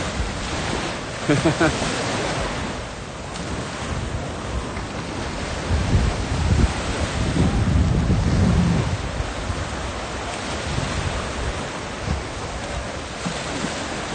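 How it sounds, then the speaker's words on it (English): Waves break over a reef at Scarborough Beach, Australia, producing a broad, steady surf roar that swells into a louder rumbling crash midway before easing back into continuous wash. "Pretty with the waves breaking over the reef"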